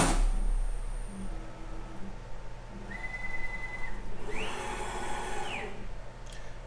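RapidChange automatic tool changer on a GRBL CNC machine dropping off a tool: a steady mechanical whir with two rising whining tones, the second louder and longer, over a constant motor hum.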